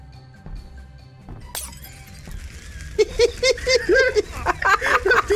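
Glass Molotov cocktail bottle shattering in the Granny Simulator video game, a bright crash near 1.5 s followed by a burst of crackling, splashing debris and scattered clatter that keeps going to the end.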